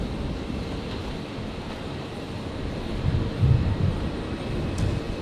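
A Qantas jet arriving at Brisbane Airport from Christchurch gives a low, steady rumble, moderately distant and mixed with wind, swelling slightly midway.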